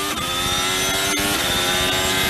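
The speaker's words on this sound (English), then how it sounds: "This is Leclerc's engine." Charles Leclerc's Ferrari Formula 1 engine at the 2022 Azerbaijani Grand Prix, misfiring and no longer running on all cylinders, gives off a loud, harsh, buzzing whine with uneven stutters and dips in power.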